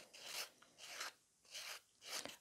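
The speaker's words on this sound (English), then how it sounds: "scratch the surface of the natural nail" A natural fingernail's surface is scratched in four quick, raspy bursts, each about half a second long, close up and quiet, with no talking.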